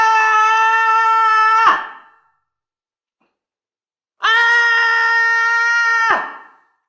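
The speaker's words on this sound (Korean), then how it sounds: "이런 긴 비명 소리는 아플 때, 특히 누가 팔을 뒤로 꺾거나 머리채를 잡아당겼을 때 나는 소리 같네요." Two long, sustained screams of pain, each about two seconds with a sharp cutoff and a silent gap between them, loud and alone with no talk.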